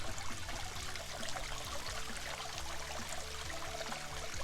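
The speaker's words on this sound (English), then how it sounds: "there was a waterfall here on the walking trail" A waterfall on a walking trail at Persimmon Hill Campground by Enid Lake makes a steady rushing, splashing wash of water that is continuous and moderately close, with no voices.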